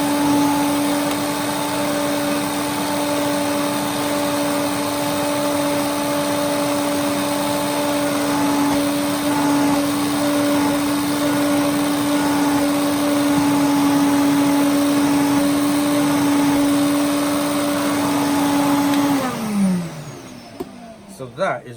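An Electrolux 347 canister vacuum cleaner runs steadily and loudly with a strong, constant motor whine for about nineteen seconds, then switches off and winds down, followed by a few faint handling knocks.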